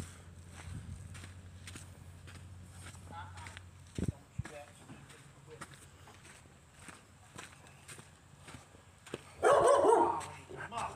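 Puppies bark a few times around a house with garage doors, short yips and barks mixed with footsteps and shuffling, the loudest burst coming near the end.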